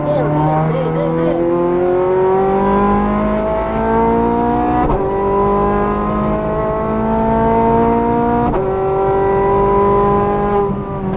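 A Ferrari F430 Scuderia on a race track screams through rising revs in repeated climbs, with sharp gear changes and a loud, close engine note throughout, while an instructor's voice talks over it.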